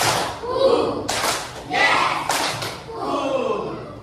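Hand clapping in a classroom clapping game, with several bursts of claps from a group, each run of claps answering a called count, loud and close between stretches of a teacher's voice.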